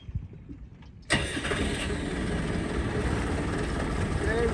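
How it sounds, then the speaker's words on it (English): A boat motor cranks and catches, quiet at first, then an abrupt burst into a loud, steady running drone that holds close and constant. "Now we're ready to start the motor."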